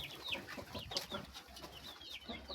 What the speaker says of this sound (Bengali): আর ওই দিকটা দেখো দেশি মুরগি আছে